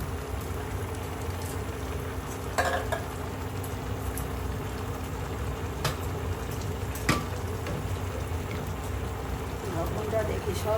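Shrimp sizzling in a pan with dried fish as they cook, a steady frying hiss with a few sharp clinks of a utensil, while a person talks over it.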